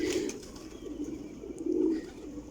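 Flyer pigeons, about one and a half to two years old, coo softly in low rolling phrases that swell near the end, with no talk over them.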